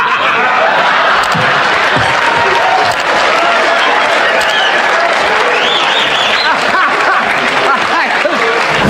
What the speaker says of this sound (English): applause crashes in, cheers rise from every corner